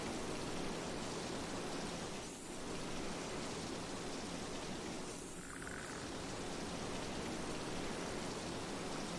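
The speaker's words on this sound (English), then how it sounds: "The sound of that water, though." Constant rushing water in the video game Demon's Souls, a dense, even hiss like heavy rain or a waterfall that fills the whole stretch, with two brief dips and no voices.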